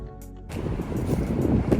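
Strong wind roars and buffets the microphone in steady gusts outside a barn, starting after a brief quieter moment.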